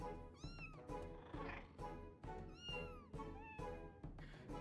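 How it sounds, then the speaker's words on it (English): Kittens in Final Fantasy XIV meow repeatedly in quick, overlapping high-pitched cries over a low rhythmic game backdrop, fairly faint and without talk. "Well, these are my kittens."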